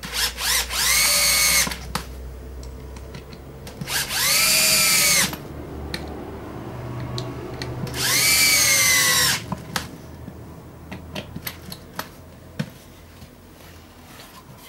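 A power drill drives screws into a wooden jig for clearing an axe eye, in three loud whirring bursts of about a second each, with quiet pauses and small clicks and knocks between them.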